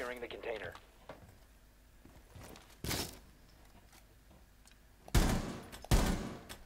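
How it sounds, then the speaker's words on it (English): Rainbow Six Siege gunfire, with sharp bursts of shots coming in short clusters separated by quieter stretches. The loudest volleys arrive near the end, and people's voices and light movement sounds fill the gaps between them. "I shot him through the box."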